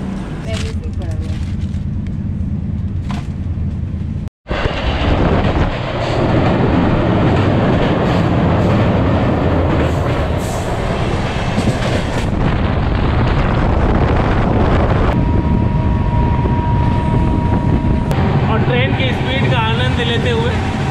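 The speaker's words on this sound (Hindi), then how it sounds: "और अब आगरा से निकल पड़ी है ट्रेन" The Taj Express pulls out of Agra, loud rumbling wheels and rattling carriages close by, with a brief dropout and clanking rail joints, while a person talks over it.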